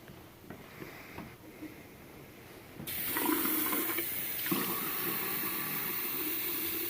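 Water runs into a measuring cylinder for mixing dental alginate, a soft trickle that swells into a louder, steady fill halfway through, close by and with no voices.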